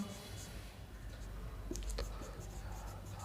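Pen or chalk scratching out a newspaper name, short faint strokes in a couple of quick bursts over a quiet, hissy room, with soft speech-like murmuring underneath.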